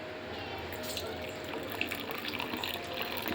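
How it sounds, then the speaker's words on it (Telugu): Hot water poured into a bowl to soak cashews and almonds for homemade ice cream, a steady close splashing pour running the whole time with small drips and clinks. "ఇలా కొన్ని వేడి నీళ్ళు గిన్నెలు వేసుకుంటున్నాను"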